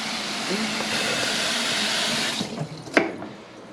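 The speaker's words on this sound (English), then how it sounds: "Just a quick rinse." Running tap water pours into a kitchen sink as a scallion gets a quick rinse, a steady broad splashing that cuts off near the end, followed by a few faint handling clicks.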